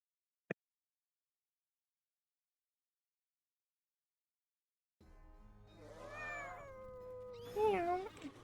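A single sharp click, then several seconds of silence, then a cat companion in a video game meows in a drawn-out, wavering way, ending in a louder rising meow.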